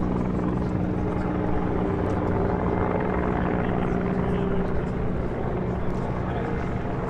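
A Mi-171Š military helicopter in flight, fitted with cargo doors and an onboard crane, gives a loud, steady rotor and turbine roar that fills the whole stretch without letup.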